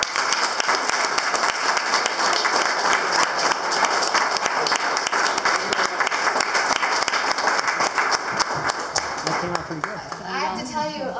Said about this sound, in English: let's give Glenn a round of applause.